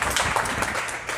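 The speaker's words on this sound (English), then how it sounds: "a little clap" A small seminar audience claps briefly for a raffle winner, a short, light patter of scattered hands at moderate distance.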